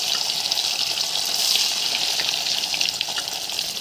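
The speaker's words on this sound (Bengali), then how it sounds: "কড়াইটা ভালো করে গরম হয়ে গেছে আস্তে আস্তে পনিরগুলো ছেড়ে দেব" Paneer pieces frying in oil in a hot wok give a bright, steady sizzle with fine crackling. It is close and continuous, with no talking.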